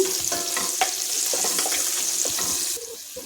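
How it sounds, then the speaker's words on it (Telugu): Okra fries in a pan with garlic chili powder as turmeric is stirred in, producing a loud, steady sizzle under close scraping and stirring sounds. "దీంట్లో పసుపు వేసుకొని కలుపుకుందాము"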